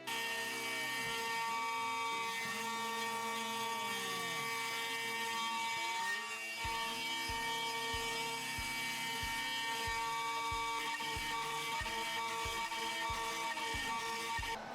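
A router fitted with a 6 mm bit machines a wooden butterfly key for an electric guitar neck joint, a constant high-pitched whine with rising and falling pitch sweeps as the cutter loads, and a series of rhythmic dull thumps in the later half.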